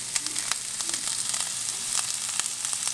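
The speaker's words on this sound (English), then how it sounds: "now first, pan is hot, put some grease on, put some onions," Onions sautéing in a hot greased pan give a steady close sizzle and crackle with small pops, continuous and without speech, while cooking alongside a whole triggerfish prepared Chamorro style.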